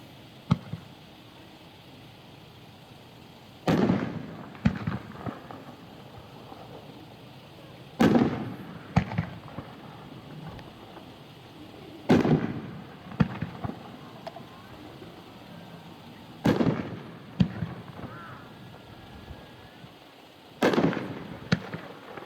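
Knockout Brocade 3-inch 9-shot fireworks cake at a dealer demo show, sharp outdoor booms fired one after another every few seconds, each followed by a crackling tail and rumble, with distant crowd ambience between shots.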